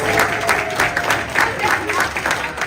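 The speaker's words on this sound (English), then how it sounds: "Give us a round of applause!" An audience claps and cheers in steady, sustained applause that fills the space, with a dense, even wash of hand claps and no break.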